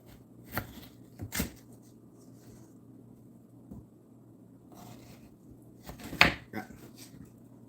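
A knife chopping food into chunks on a board, a few separate sharp thunks spread out over a quiet background, alone without talk.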